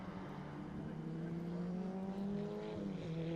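Formula 1600 race cars at Levels Raceway in Timaru slide through a tight left-hand curve, their engines a steady, close, sustained drone with shifting pitch across the whole stretch.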